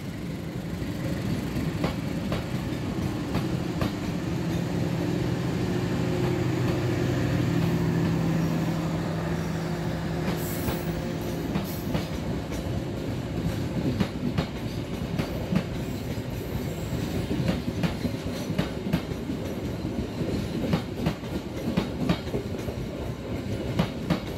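Steady rumble of the KA Kertajaya passenger train in motion between Jakarta and Semarang, with a regular clickety-clack of wheels over rail joints and an occasional faint squeal, no voices.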